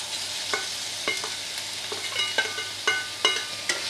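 Chicken slices are stirred into masala in a pan, the spatula knocking and scraping at an uneven rhythm above a low, steady sizzle, with no one speaking.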